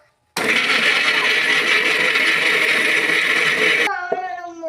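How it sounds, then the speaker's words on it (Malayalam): A mixer grinder runs loud and steady for a few seconds, grinding chillies, ginger, garlic and coriander leaves with a splash of vinegar, then cuts off abruptly, and a voice follows. "ഇനി നമുക്ക് മിക്സിയിൽ ഇട്ടോ"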